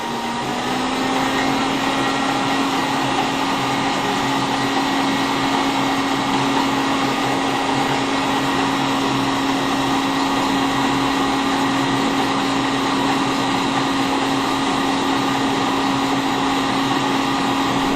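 A heat gun blows hot air steadily over coffee beans roasting in a breadmaker, giving a constant loud whooshing drone with a low hum under it that holds without break throughout, and no one speaks.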